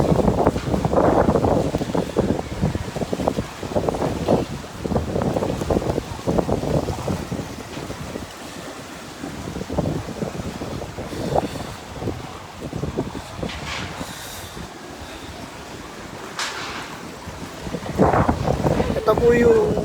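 Gusty wind buffets the microphone in loud, uneven bursts during a typhoon, with a steady wash of rain underneath and brief voices.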